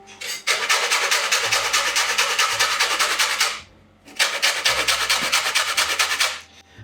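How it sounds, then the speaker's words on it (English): Lemon being zested for baked asparagus with lemon salt, giving two long, loud bursts of steady rasping scrapes, close up, with a short pause between them. "So first of all, zest of the lemon."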